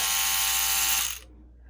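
A battery-powered electric scrub brush for cleaning ice makers whirs with a steady high-pitched motor buzz, then cuts off abruptly and leaves faint background noise.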